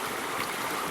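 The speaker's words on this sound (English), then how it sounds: "It's just some random creek running through a pine bottom." Creek water runs steadily through a pine bottom, a continuous close wash of flowing water with no talk.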